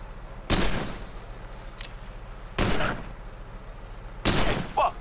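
Revolver gunfire in GTA 5 Online, three loud, sharp shots spaced about two seconds apart, each with a short ringing tail over a low steady background.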